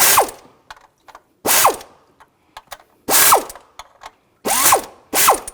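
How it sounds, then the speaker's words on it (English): A ratchet with a 10mm socket loosening the water pump pulley bolts on a 2006-2010 BMW 550i, close and sharp, with five bursts of rapid clicking separated by pauses and small metallic taps, and no talking. "Now we're going to take the pulley off. Use a 10mm socket."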